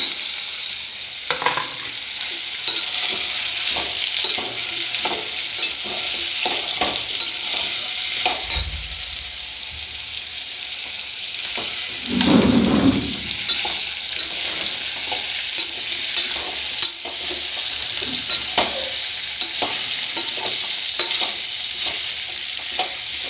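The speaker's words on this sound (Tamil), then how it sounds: "இப்போ நம்ம பூசணிக்காயை போட்டுக்கலாம்" Pumpkin pieces sauté in a pan for sambar: a continuous bright sizzle broken by repeated scraping and stirring strokes from a spoon, with a heavier clunk near the middle.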